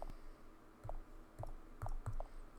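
Irregular keyboard clicks, several key taps spaced unevenly over a faint background hiss.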